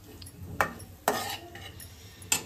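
Halim seeds roasting and being stirred in a pan, quiet background with three or four sharp metallic clinks of a spoon against the pan at irregular intervals.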